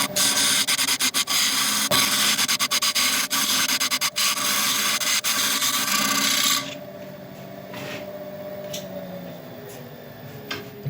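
Abrasive paper rasps steadily against a spinning black locust wood turning on a lathe, loud and continuous with scratchy streaks, then drops to a softer whirring rub for the last few seconds.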